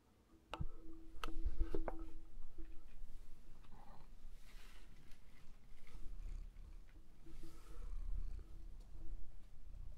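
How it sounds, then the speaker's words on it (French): Soft, continuous cat purring close by, low and rumbling, with a few faint clicks and ticks near the start. "Elle ronronne."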